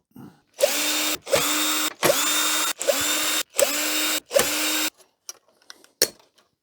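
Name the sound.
power drill undoing screws on a vintage HP LaserJet printer board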